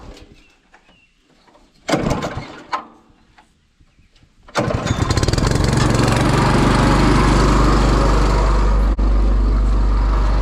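A Honda engine on a gravel screening machine gives a few clunks, then starts and settles into a loud, steady, close running drone that continues to the end.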